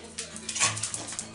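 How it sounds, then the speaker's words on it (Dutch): A small dog whimpers and yips happily at home, a run of short high whines and soft bow-wow-like squeaks close by, with no talk over it. "Ja, mijn hondje is weer blij."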